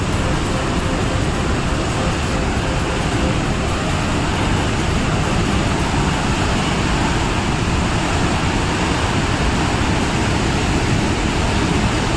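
Nilwandi waterfall in the rainy season, heavy water rushing and roaring in a dense, unbroken wash of noise, loud and close throughout with no voices.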